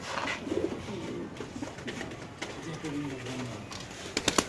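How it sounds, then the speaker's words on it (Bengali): Pigeons at a Bangladeshi pigeon market, including Jacobin and Bombay breeds, coo in low repeated phrases amid a busy crowd, with people talking nearby and scattered sharp clicks toward the end. "এটা কি কবুতর"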